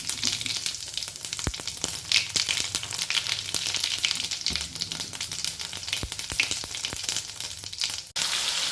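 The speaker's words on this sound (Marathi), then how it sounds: "आता आपण फोडणी देऊया. 2 माप तेल घातलेलं आहे. यामध्ये थोडेसे जिरे टाकूया." Cumin seeds tempering in hot oil for a stuffed brinjal dish, giving a steady close crackling sizzle with scattered sharp pops throughout.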